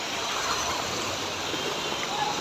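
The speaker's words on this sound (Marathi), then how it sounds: "आणि त्या पावसाचं हे पाणी" After heavy overnight rain in Pune, runoff water pours along in a constant, even rush, a close hiss of flowing water that holds without breaks.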